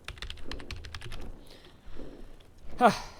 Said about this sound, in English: We're just going to type in OBS download.